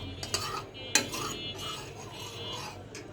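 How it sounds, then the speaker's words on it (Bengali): A spoon stirs two spoonfuls of cornflour into water in a bowl during sweet vermicelli preparation, giving soft scraping and light metallic clinks against the bowl, fairly quiet and close with a few sharper taps. "বাটিটার ভিতরে 2 চামচ কর্নফ্লাওয়ার গুলে নিলাম।"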